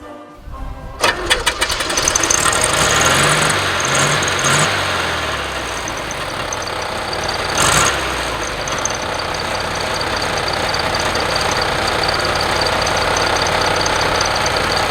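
The air-cooled 1192 cc, 34 hp boxer engine of a 1967 Volkswagen Beetle 1200 cranks, starts and settles into a steady, rattling idle, loud and close, running on without pause.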